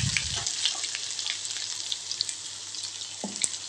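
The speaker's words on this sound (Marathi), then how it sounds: "तेल टाकून घेतले, त्यामध्ये जिरे मोहरी ॲड केलं आणि लसणाची पेस्ट मी अगोदरच करून ठेवली होती" Garlic and ginger paste fries in hot oil with cumin and mustard seeds, giving a steady close sizzle with small crackles and pops throughout. A brief clatter from stirring or a utensil sounds near the start and again near the end.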